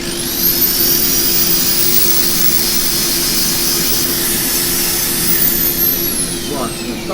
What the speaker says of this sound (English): let the drill turn it.